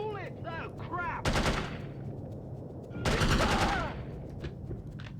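Gunfire in the video game No One Lives Forever: two loud sustained bursts of rapid automatic fire, separated by a short gap, with warbling tonal game sounds and quieter ambience between them.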